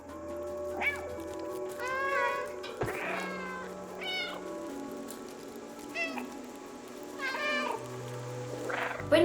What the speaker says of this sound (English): you have a dedicated button for meowing